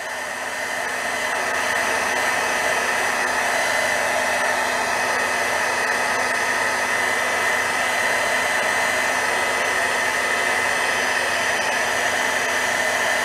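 A heat tool blows steadily for embossing on silver foil, a constant loud whooshing hum that starts up and holds unbroken, with no voices.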